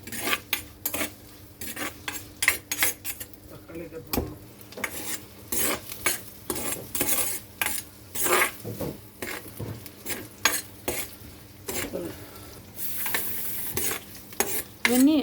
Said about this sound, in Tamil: இப்போ நல்லா கிண்டி விட்டுப்போம் பொன்னிறம் ஆகிற வரைக்கும்